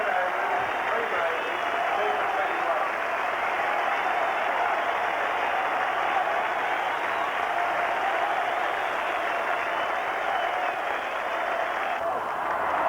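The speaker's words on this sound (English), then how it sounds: "A standing ovation for Dennis Keith Lillie." Cricket crowd at Manuka Oval in 1984, Australian Prime Minister's XI against West Indies, giving a standing ovation to a bowler: dense, steady applause and cheering from a large crowd, sustained and even throughout.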